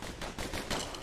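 Dueling pistols firing in the video game Bastion, a quick dense burst of gunshots over about a second, close and fairly quiet.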